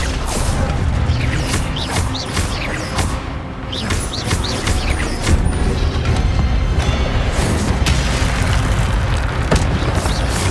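Fire spells blasting in Hogwarts Legacy make loud, dense booms and crackling bursts that roll one into the next, with repeated whooshing sweeps over a heavy low rumble and no talk.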